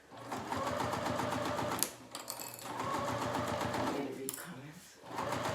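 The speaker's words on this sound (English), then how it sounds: "now we're sewing at full seam allowance. These two guys together" A sewing machine stitches pouch pieces together at full seam allowance, humming steadily in close, continuous runs with a couple of brief pauses, while people talk over it.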